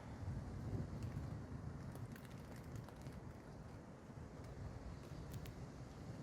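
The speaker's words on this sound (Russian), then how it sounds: "Ветер." Wind gusts steadily across an outdoor campsite near a dying campfire as the sky darkens, a constant low buffeting rumble that fills the whole stretch at modest level, with no voices.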